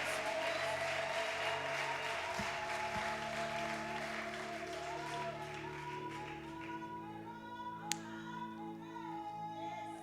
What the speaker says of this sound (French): Give a hand to Jesus.